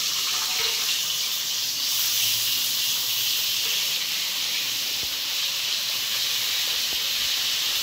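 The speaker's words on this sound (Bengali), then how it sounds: "এবারে আমরা দিয়ে দেব কুচিয়ে রাখা পেঁয়াজটা।" Chopped onions sizzling steadily in hot white oil, a loud continuous hiss of frying that holds evenly throughout with no talk.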